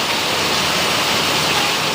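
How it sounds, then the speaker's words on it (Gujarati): Heavy monsoon rain pours down in Surat as a steady, dense broadband hiss, loud and unbroken throughout, with no voices. "એટલો વરસાદ પડે મિત્રો, બહુ વરસાદ છે"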